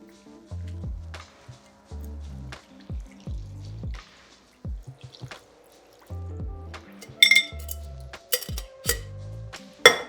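Tiki cocktail being poured and strained, with repeated short liquid splashes and drips, ice clinking and sharp glassy chinks toward the end, close and fairly loud with no talking.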